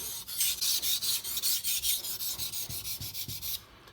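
A kitchen knife blade is sharpened on a water stone, about a dozen rhythmic back-and-forth rasping strokes close up, each a crisp scraping hiss, stopping just before the end.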